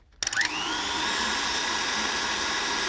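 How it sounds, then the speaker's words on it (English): A stand mixer whisk beats buttercream with a vanilla bean for macarons, its motor starting after a brief clatter and then holding a loud, steady whirring drone close by. "we're going to keep beating it until the whisk releases the rest of the seeds"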